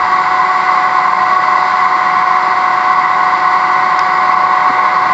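A small engine fired by the Gas O Matix 9000 gas setup runs at a steady, even drone, loud and close, with no change in pace and no talking over it.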